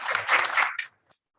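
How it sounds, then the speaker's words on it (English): An audience at a World Patient Safety Day event claps briefly for a keynote speaker, a bright burst of applause that fades quickly into silence. "Clapping हो सकती है?"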